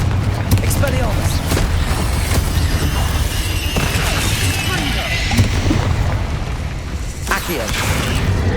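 Spell casting in the video game Hogwarts Legacy produces repeated booming blasts and crackling explosions in a dense, continuous barrage of combat sound.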